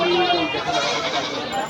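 Several goats, including large castrated males, bleat through the steady chatter of a crowded rural goat market in Bangladesh, with someone speaking nearby throughout.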